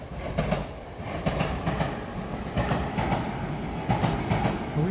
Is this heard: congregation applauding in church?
no